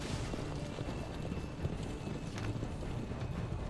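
Hooves of a galloping horse in Assassin's Creed Revelations, a steady muffled clip-clop beating under a dense, continuous rumble of game noise with no talk.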